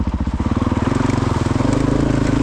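Honda CRF450RL adventure motorcycle pulling away, its single-cylinder engine thumping in a steady, rapid pulse that rises slightly as it rides off, loud and close with no talking.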